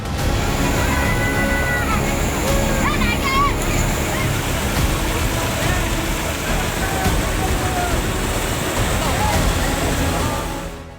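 Floodwater from heavy rains rushes through a stream channel in Kalaburagi, Karnataka, a loud, constant roaring wash that continues unbroken throughout, with faint voices and whistles mixed in.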